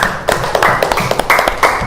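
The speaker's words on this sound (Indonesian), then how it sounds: "terima kasih untuk Kuni, beri tepuk tangannya." A short burst of classroom clapping for a student, loud and close, with uneven separate hand claps rather than a full applause roar.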